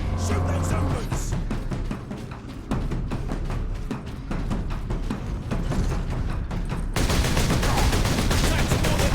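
Sustained gunfire against zombies in the Space Marine video game, a rapid run of shots over a loud, busy game soundscape that swells louder near the end.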